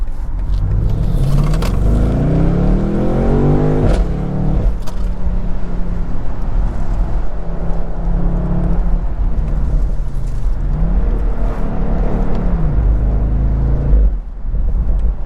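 2023 BMW M850i Convertible with its V8 engine pulling hard on the road, a loud continuous engine roar with rising and falling revs through gear changes and a steady rumble of road and wind noise.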